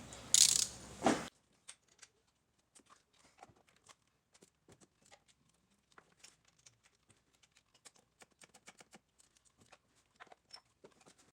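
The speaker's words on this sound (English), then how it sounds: "we're gonna go ahead and tighten the spark plugs" A ratchet tightens spark plugs on a Ford Ranger. It gives faint, fast clicking pawl ticks in irregular bursts, all close and quiet, after a short loud noise at the start.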